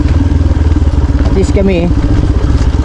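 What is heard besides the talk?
motorcycle being pushed downhill carrying luggage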